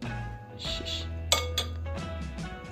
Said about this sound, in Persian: ماست میریزم توی ظرفم.